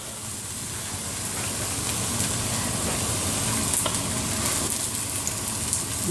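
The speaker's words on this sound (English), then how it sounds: "We're just going to let that cook in the ghee." A makki paratha, a thin corn-flour flatbread, cooks in ghee on a pan with a steady, dense sizzle that holds level throughout, with no talk over it.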